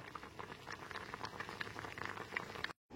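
Green mango boiling in a pot of water on a gas stove, a soft, continuous bubbling and popping patter heard close by and quiet, cutting off briefly near the end.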